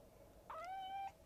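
A single cat meow, clear and fairly close, rising then holding for about half a second against a quiet background.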